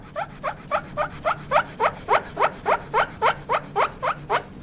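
A small file rasps back and forth across the wooden brace of a Martin D-28 guitar being re-braced, in about fifteen steady, evenly spaced close strokes with nothing else heard.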